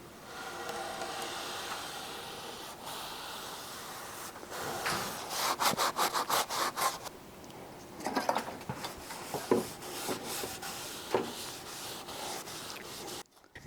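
Walnut wood being sanded by hand, a steady rasping scrape that swells into rhythmic back-and-forth strokes, loud and close, with brief pauses and no voices.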